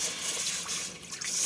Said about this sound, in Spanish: Una tacita de agua de estas serían suficiente para poner a hervirla